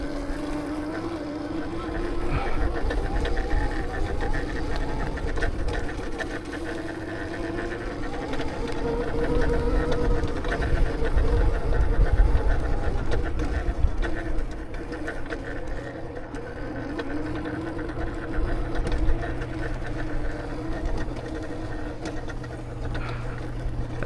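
A Mototec 72v 5000w electric dirtbike rides along with a steady whirring motor drone under heavy wind buffeting on the microphone, loud and continuous from a rider's point of view, without speech.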